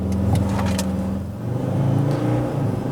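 A Ford Ranger Storm 4x4 diesel pickup pulls away hard from a standstill in Sport mode, its engine note rising in steady droning harmonics, then dropping briefly at a gear change before climbing again, heard from inside the cabin.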